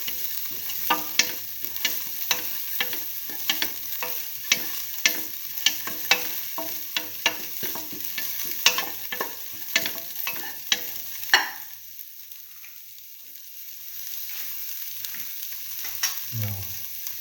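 Food sautéed in a pan for a split mung bean tomato stew, with a steady sizzle and regular sharp scrapes of a spatula for most of the stretch, then a quieter sizzle alone near the end.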